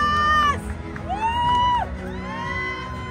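Parents in a crowd at a basketball awarding ceremony shout and cheer continuously, with long rising and sustained whoops and yells over a dense, noisy hall din.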